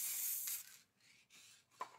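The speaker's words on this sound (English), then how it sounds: "we're just going to give that a nice even spray" An aerosol coating being sprayed onto printed waterslide paper: a loud hissing spray burst at the start, followed by two or three fainter short hissing passes.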